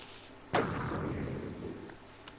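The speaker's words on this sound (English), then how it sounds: "part of the vanilla tweaks here is that it brings back the old explosion noise." The old explosion sound from Minecraft Java edition, restored by a Vanilla Tweaks resource pack, lands once as a sudden full, punchy boom whose rumbling tail fades over about two seconds, with no talk.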